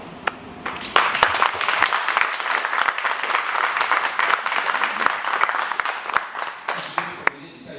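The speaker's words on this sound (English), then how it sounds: "let our members welcome you by a round of applause" Rotary club members applaud a new member being welcomed at a meeting, a lively burst of clapping that swells after a brief spoken moment and then fades, with a few sharp individual claps near the end.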